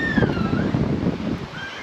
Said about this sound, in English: the waves are blowing this way